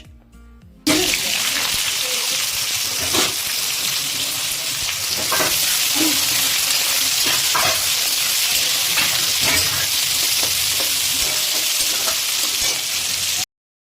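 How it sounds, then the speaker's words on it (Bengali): Chopped onion frying in mustard oil with whole cumin in a pan, giving a loud, close, continuous sizzling hiss broken by faint stirring clicks, with no voices over it. "এখানে একদিকে পেঁয়াজটা ভাজা হচ্ছে"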